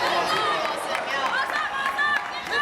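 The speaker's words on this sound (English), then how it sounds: "I can hear shouts of awesome from the crowd" A crowd at an SDCC Bengaluru event cheers and shouts nearby as a competitor completes the monkey bars, a steady wash of overlapping voices and calls with no single clear word.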